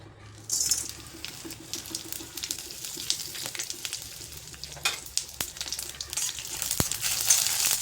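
Whole spices crackle in hot oil: cumin, cloves, cardamom, a two-inch piece of cinnamon, peppercorns and bay leaves. A close, steady sizzle runs throughout, broken by scattered sharp pops and clinks, with no voices.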